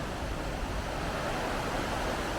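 River at Mossman Gorge rushing beside a walking track, a steady broadband wash of flowing water close by with no voices.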